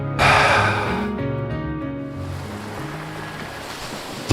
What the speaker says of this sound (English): The waves were crashing on the beach.